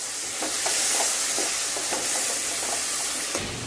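Potato chilli is stirred in a hot pan with chilli sauce and tomato sauce. A utensil scrapes and clacks in an irregular rhythm over a steady sizzling hiss, close by and moderately loud, with no speech.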